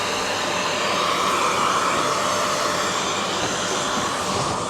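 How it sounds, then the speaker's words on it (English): A hoover runs steadily with a loud, even whoosh throughout, hose in use during a kitchen worktop installation, with no pauses or speech. "So turn the hoover on."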